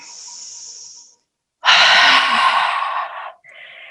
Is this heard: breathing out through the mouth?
yes